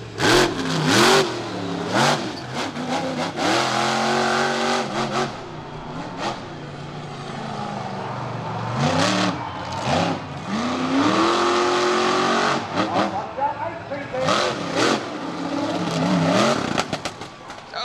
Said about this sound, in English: you hear the truck popping and cracking and just cut off clean